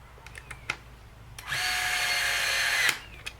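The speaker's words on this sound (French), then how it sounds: "Je vais régler mon tournevis à 1 minimum." Electric screwdriver set to its lowest torque while fitting Barkbuster hand guards to a BMW F900 GSA motorcycle, giving one steady whirring run of about a second and a half, close by, after a few small clicks and handling knocks.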